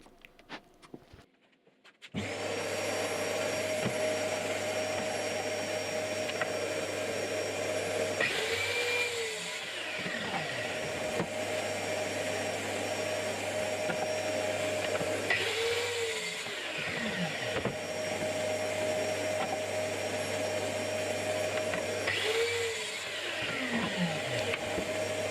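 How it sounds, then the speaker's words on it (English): Saw cutting shelf boards to size against a stop, with a steady loud machine whine running after a sharp start and three separate passes of the blade through the wood, each a short swelling cut. "setting a stop for the top, base and fixed shelf, cutting them to size quickly and easily"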